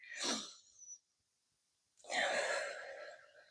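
A slow, deep breath taken in a quiet room during a guided calm-breathing moment: a soft airy inhale, a pause of near silence, then a longer, fuller exhale, close and gentle.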